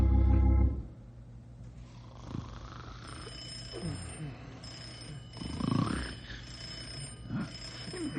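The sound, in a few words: telephone ringing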